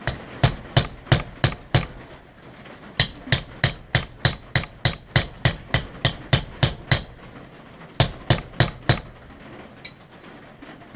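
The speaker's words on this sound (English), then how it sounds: "Then we'll take the peen on my ball peen hammer." A ball peen hammer peens a small brass piece with sharp metallic taps, close and loud, struck in fast steady runs of blows broken by brief pauses.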